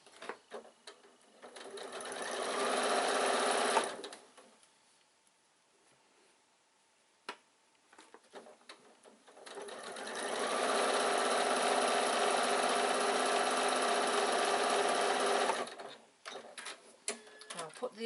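A sewing machine stitches a baby bag lining in two long runs, the second pass going back over the same seam, with a quiet pause and a few clicks and handling noises between them.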